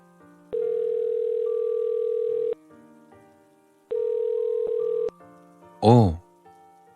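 A telephone dial tone plays after the call button is pressed, in long steady tones with a pause between them, and then a brief rising chirp. It is loud and clear, with no talking.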